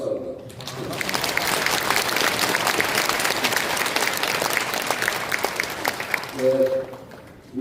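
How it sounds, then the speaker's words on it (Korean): Audience applause at a church thanksgiving service breaks out and sustains as a dense wash of clapping for several seconds, then fades as a voice resumes speaking. "성모님께 큰 박수 한번."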